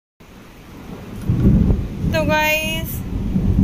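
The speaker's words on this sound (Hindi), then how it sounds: "इतनी तेज बारिश हो रही है" Heavy rain pours down during a thunderstorm, with a deep rumble of thunder swelling loud midway through the downpour while a voice speaks briefly over the storm.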